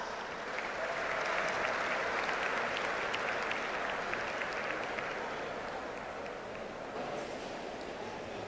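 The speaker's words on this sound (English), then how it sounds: "Let's give another round of applause for Ms. Tanya Vesey." A banquet-hall audience at an awards dinner applauds steadily for the full stretch, a dense, even wash of many hands clapping with faint crowd murmur underneath.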